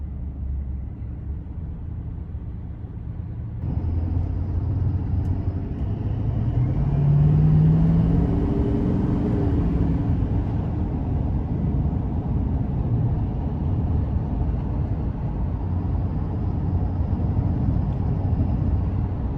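A Chevrolet Silverado 2500HD heavy duty truck drives along with a continuous low engine and road rumble that steps up in loudness partway through and briefly rises in pitch as it accelerates, with no talking.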